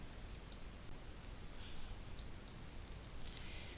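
Soft, faint mouse clicks, a few single taps spaced out over quiet room tone, as an Academic Journals search filter is selected and applied on an EBSCO Discovery search page.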